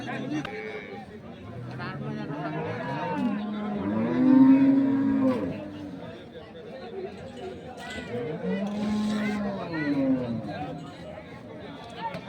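Jersey cows moo loudly and repeatedly, long drawn-out calls rising over a noisy crowd at a cattle market in Dinajpur, Bangladesh, with people talking throughout.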